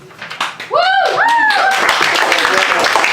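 An audience claps after a poetry reading; a loud, dense burst of close applause starts suddenly and continues, with a voice whooping over it.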